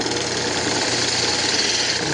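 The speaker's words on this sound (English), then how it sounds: "It's just a fingernail gouge." A wood lathe spins a bandsaw box while a fingernail gouge shapes it, making a steady, loud mechanical whir and rough cutting hum that holds evenly throughout, close by and with no speech.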